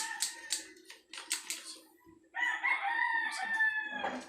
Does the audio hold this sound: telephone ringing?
no